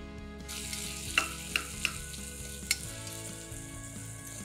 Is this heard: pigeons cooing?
no